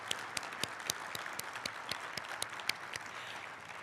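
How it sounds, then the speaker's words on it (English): A small audience at an annual meeting gives a brief round of applause for the OWA workers: sparse, uneven individual claps at moderate distance, fairly quiet, with no voices over them. "indulge me in a quick applause for them and for everybody that works on OWA"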